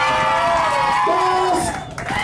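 Audience on a yacht cheering and whooping for contestant number three at a party contest, a loud continuous crowd roar with shouts and voices mixed in, sustained for a couple of seconds.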